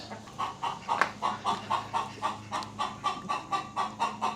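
A chicken clucking up close in a steady, rhythmic run of repeated short clucks, about three per second, with no voices over it.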